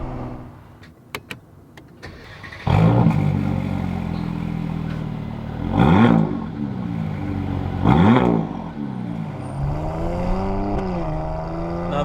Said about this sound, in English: When you start the car up, it sounds right.